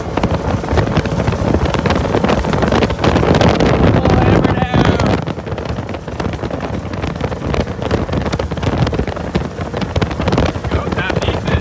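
A Sea-Doo Speedster Sportster 4-tec jet boat runs at speed from the driver's seat, its engine roar buried under heavy, constant wind buffeting on the microphone.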